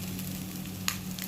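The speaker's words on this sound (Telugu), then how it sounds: "ఫ్రై చేసాం కదండి ప్రాన్ వేసుకున్నాం" Prawns fry in a pan with a soft, continuous sizzle, faint and steady under a low hum, with one brief sharp pop near the end.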